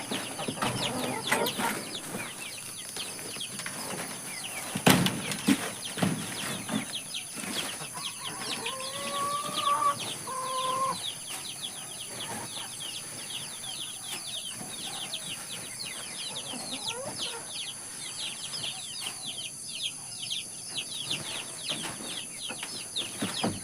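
Young RIR chickens cluck and call in a home garden, with scattered clucks, a brief wing flap and a couple of louder squawks over steady outdoor background noise.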